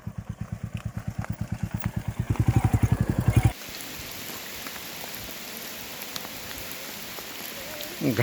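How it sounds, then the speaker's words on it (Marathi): Heavy rain pours down in a mountain ghat near Peth, Nashik, a dense, steady roar of drops that follows a few seconds of a motorcycle engine chugging nearby. "आणि इथं एवढा जबरदस्त पाऊस चालू झाला."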